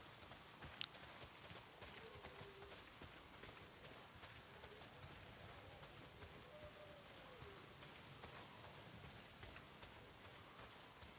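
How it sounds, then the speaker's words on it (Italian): Rain falls in the video game Days Gone, a steady soft hiss of drops on surfaces lasting throughout, faint and even with a few brief tonal sounds beneath. "se continua a piovere così"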